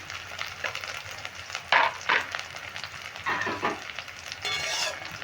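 Chopped onion and green chillies frying in oil for a kundri posto dish, a steady sizzle broken by repeated scraping stirs of a spatula against the pan, close and clear.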